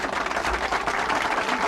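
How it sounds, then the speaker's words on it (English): A stock clapping sound effect: a brief, dense burst of crowd applause lasting under two seconds, played alone at steady loudness. "it's the same clapping sound effect"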